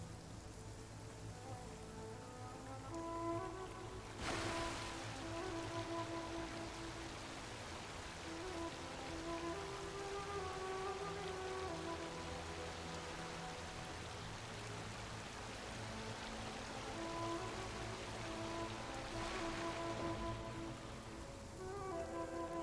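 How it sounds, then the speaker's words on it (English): A heavy downpour of rain falling steadily and densely for the whole stretch, a broad, even hiss close by with no pauses and no voices. "Quite a downpour."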